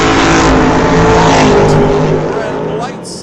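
Drag racing cars, a Chevy II and a Chevy Roadster, roar loudly down the strip, a dense high-revving engine blast that stays strong and then tapers off as they pull away, with an announcer talking over it.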